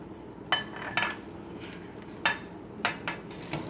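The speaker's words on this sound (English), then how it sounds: "Put it on a plate. Cut it like a pie." Homemade mac and cheese being cut like a pie on a plate, a utensil clinking against the plate in several sharp, irregular taps, close by, with no one speaking.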